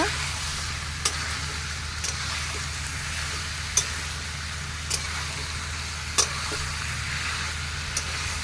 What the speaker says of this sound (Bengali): ভালো করে আর একটু নেড়ে চেড়ে নেব